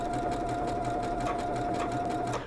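A sewing machine running steadily as it zigzag-stitches a buttonhole, its rapid rhythmic needle chatter loud and continuous, then slowing at the end.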